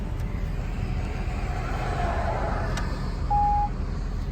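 A single short electronic beep from a 2008 Chevrolet Corvette Convertible's convertible top sounds over a low steady engine rumble, with faint rustling and handling noises before it.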